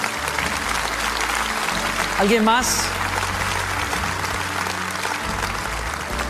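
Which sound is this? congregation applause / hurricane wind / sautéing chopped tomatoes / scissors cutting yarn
congregation applause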